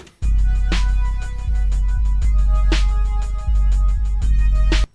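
A four-bar looping beat with deep booming 808 bass hits and crisp percussion repeats steadily, loud and full, with no voices.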